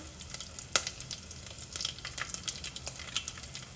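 Whole tempering spices crackle and sizzle in hot oil for a lentil-fritter tamarind curry, with close, scattered sharp pops over a low frying hiss and no talking.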